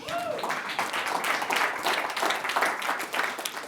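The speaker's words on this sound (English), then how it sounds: "Give her a round of applause." Applause from an audience at a business seminar, brisk overlapping claps in a fairly loud, steady burst, with a brief voice at the start.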